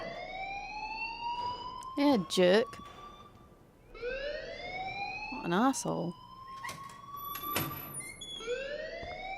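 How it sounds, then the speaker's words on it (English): In-game alarm ringing in the Life is Strange video game, with a wailing tone that sweeps upward again and again. Voices talk over it. "please turn off that alarm since that's your job"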